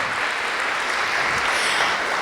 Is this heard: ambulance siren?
no